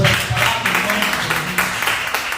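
A congregation applauds the Lord at a Sunday church service, a dense, steady wash of many hands clapping that carries on without a break for the whole stretch.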